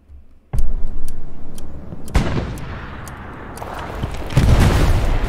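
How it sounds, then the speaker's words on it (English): Loud explosions and gunfire in a military video game firefight, with sharp blasts at the start and midway and heavy rumbling bursts rising again near the end. "Throw grenades if you have them."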